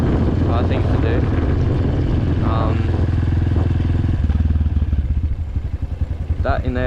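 A motorcycle engine runs close by with a loud, rough low-pitched idle that pulses and revs slightly, while a person talks over it in bursts.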